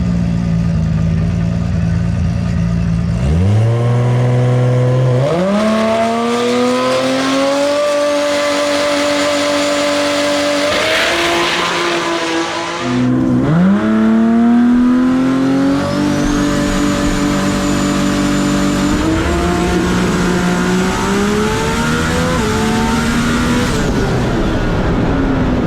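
Toyota Supra engine on a racetrack, revving hard through rising gear pulls, dropping sharply twice on downshifts, then climbing again. The loud, continuous engine note dominates close up throughout.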